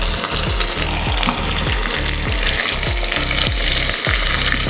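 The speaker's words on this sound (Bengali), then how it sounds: "আবার 2 মিনিট এগুলোকেও ভালোভাবে ভেজে নেব।" Pumpkin and drumstick pieces for a bitter chocchori fry loudly in a pan with dense crackling sizzle, overlaid by a rhythmic repeated scraping or knocking pattern throughout.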